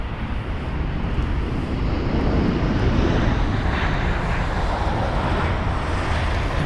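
A Turkish Airlines airliner landing at London Heathrow, weaving on approach, gives a steady, broad jet roar that holds loud and close throughout with some wind buffeting, no voices.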